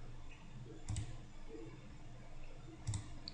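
Two quick computer mouse clicks, about two seconds apart, during a cPanel FTP file transfer, close and crisp over a low steady room hum.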